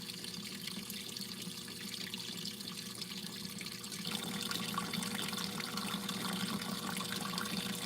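Water pours steadily into a tub for a final rinse, a continuous hiss that grows louder and fuller about halfway through, with no voices.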